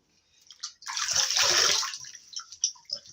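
Water is splashed onto a face at a basin, a close, sloshing wash rising to a sustained splash and then trailing off into scattered drips and small splashes, with no one speaking.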